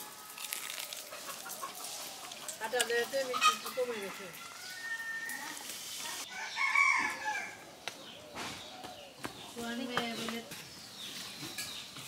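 A large rooster crows and clucks close by in a village yard during a rural pitha-making festival, its calls recurring through the clip amid frequent overlapping talk from people nearby.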